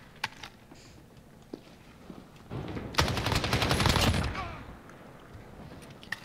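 An AK-74u submachine gun in Modern Warfare is fired from the hip in a loud, rapid burst lasting about a second and a half. Scattered single cracks and faint footsteps come before and after it.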